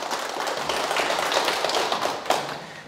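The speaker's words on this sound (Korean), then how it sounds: "큰 박수 부탁드립니다." Scattered clapping from a lecture audience, a loose patter of hands with a few sharper individual claps, moderately loud and close, with no talking over it.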